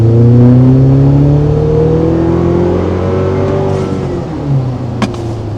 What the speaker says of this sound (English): 20 miles an hour, pedal to the floor.